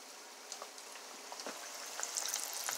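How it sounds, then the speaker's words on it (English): Fry bread dough with cheese sizzles in hot deep-frying oil, a soft, continuous crackle with scattered pops that grows slightly busier toward the end, heard without talk. "Cheese, it actually went down like it was deep frying."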